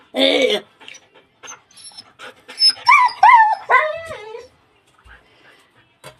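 A dog nearby gives a short bark, then a run of high, wavering whimpers and yips, with quiet pauses between the sounds.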